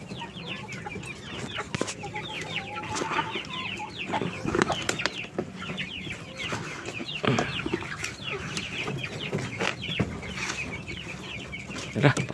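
A flock of chickens clucks and squawks continuously nearby before a feeding, with overlapping calls, occasional wing flaps and scattered louder cackles over the whole stretch.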